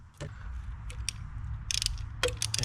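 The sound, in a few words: ratchet removing 10 mm nuts on a car engine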